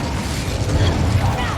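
The Incendio fire spell cast in Hogwarts Legacy, a dense, loud roaring whoosh of flame that holds steady with no break for about a second and a half.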